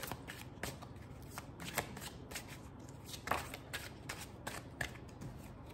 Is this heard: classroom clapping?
no